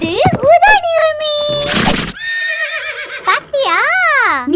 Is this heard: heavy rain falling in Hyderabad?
no